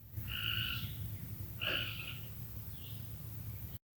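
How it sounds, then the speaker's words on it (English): A frog calls in a nature preserve creek setting, giving a few pulsing croaks spaced a second or so apart, moderately close over a steady low background hum. "there's a frog speaking some love languages"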